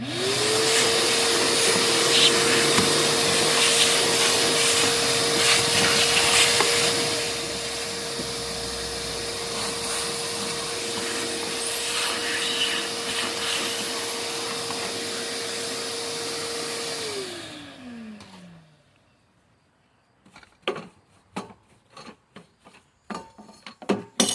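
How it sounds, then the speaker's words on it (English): A vacuum cleaner sucks debris out from under a Cub Cadet XT1 46-inch riding mower, a loud steady whine with rattling grit that winds down at shutoff, followed by scattered clicks and knocks of handling. "Vacuum. Suction."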